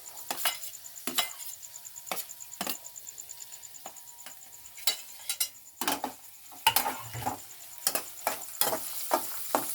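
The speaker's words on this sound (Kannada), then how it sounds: "ಈಗ ನಾನು ಮೆಣಸಿನ್ಕಾಯಿ ಹಾಕೊಳ್ತಾ ಇದ್ದೀನಿ." Green chillies fry in a hot pan with onions while a spatula stirs and scrapes in irregular knocks and clatters over a faint, steady sizzle, close by.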